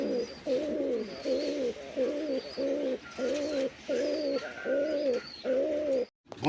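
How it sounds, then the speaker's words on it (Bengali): A male pigeon of a fancy racer breed cooing close by, a repeated series of about ten rolling, throaty coos in a steady rhythm with short pauses between them. "পিছে যেটা ওইটা নট ডাকতে আছে"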